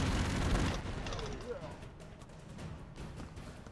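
Gunfire bursts in the video game Broforce, a dense cluster of shots loudest at the start, then trailing into a steady rumble of battle noise with a voice talking over it.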